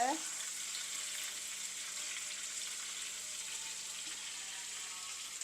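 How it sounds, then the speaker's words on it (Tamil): Chicken pieces frying in oil for a coconut milk chicken biryani give off a soft, steady sizzle, faint and continuous with no talk. "இந்த சிக்கனும் ஃப்ரை ஆகிட்டுது"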